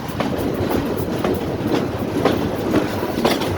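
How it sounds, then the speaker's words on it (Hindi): A goods train departing Hirok railway station at speed on a down track, with steady rolling rumble and regular clickety-clack of wheels over rail joints, heard close and continuous, without talk. "ट्रेन काफ़ी स्पीड से रवाना हुई है क्योंकि डाउन ट्रैक है"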